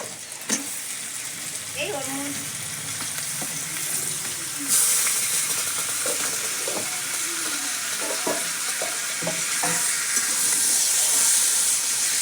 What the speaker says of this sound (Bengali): এইবার আমি দিয়ে দেবো মেখে রাখা চিকেন